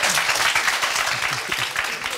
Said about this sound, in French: Applaudissements pour François.